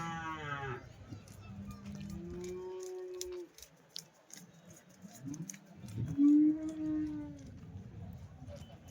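Jersey calves at a Sunday cattle market moo several times, drawn-out low calls spaced across the stretch, fairly close, with scattered clatter and faint background voices.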